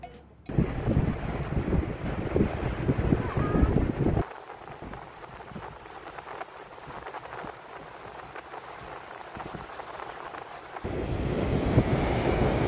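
Strong ocean waves rush and break on a beach at Pagudpod, a loud broadband surge that eases in the middle and swells again, mixed with heavy wind noise on the microphone.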